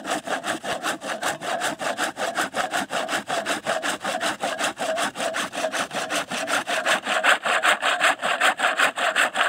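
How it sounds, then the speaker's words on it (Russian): A hand saw cuts through wood in fast, steady back-and-forth strokes, close and fairly loud, with no talking. "Ну, не отвлекай меня, Джон, дай я допилю вот самое"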